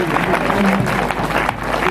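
A church congregation at a Sunday meeting claps loudly in a dense, continuous wash of applause lasting under two seconds, with some voices mixed in.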